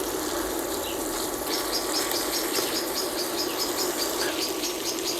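A small bird chirps in quick, repeated bursts in the background, over a steady broadband hiss in a kitchen where chicken livers cook on medium heat.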